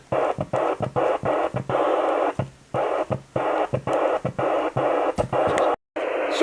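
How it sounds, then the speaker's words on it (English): Steady broadband white-noise static from a ham radio rig tuned to 28,450, loud and close, chopped by frequent brief dropouts and a near-silent gap near the end. "Sorry about the white noise, you're going to have to deal with it."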